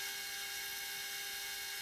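A small CNC lathe drilling Delrin acetal, giving a steady high-pitched whine with a constant tonal hum, close and even throughout with no talk.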